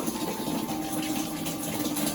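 Water pours and rinses steadily over Epson printer parts to wash out ink, a constant close gushing wash with no talk over it.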